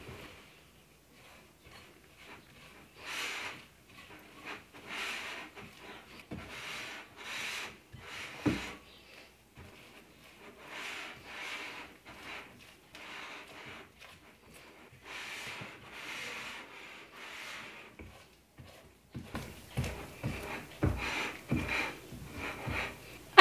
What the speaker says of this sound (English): And stir this till it's really combined. Scraping the bowl as you go,